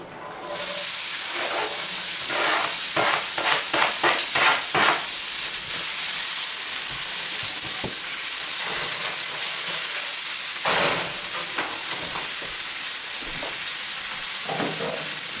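Chopped onion sizzles loudly and steadily in a frying pan on the stove, a constant close hiss with a few stirring or scraping sounds and no talking.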